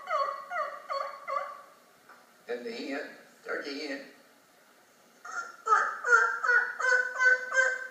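A voice mimics a turkey hen with a few quick, throaty yelping bursts in short rhythmic groups, close and fairly loud.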